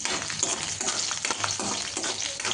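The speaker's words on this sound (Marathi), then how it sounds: "कढई ठेवून त्यामध्ये तेल टाकून मिरची आणि लसूणची फोडणी करायची आहे" Green chili and garlic tempering sizzling in hot oil in a wok, a continuous loud crackling fry close up with faint stirring scrapes.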